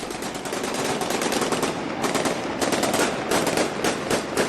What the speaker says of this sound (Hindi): रात के अंधेरे में गोलीबारी